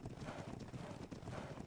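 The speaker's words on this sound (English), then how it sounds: "Oh, that's a cool looking horse." Horse hooves clip-clopping in the game Ark: Ragnarok, a steady quiet patter of hoofbeats with a soft wind hiss behind.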